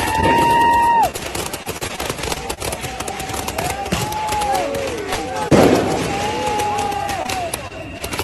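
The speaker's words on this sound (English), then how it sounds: "Holy crap! It's a firework Gatling." A rapid barrage of firework bursts crackles and pops continuously, loud and dense, with people talking and exclaiming over it.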